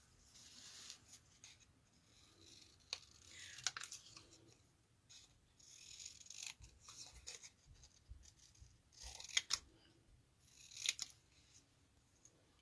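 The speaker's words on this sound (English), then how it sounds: "Then this I need to fussy cut. Grab a pair of scissors here." Scissors snipping through paper in short, irregular bursts of crisp cuts, close and quiet, with pauses between.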